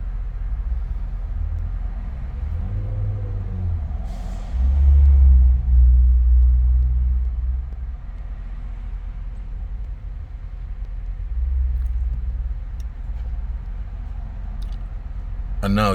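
The engine of a 2011 Lincoln Town Car idles with a steady low rumble, with a brief swell partway through, while someone talks over it.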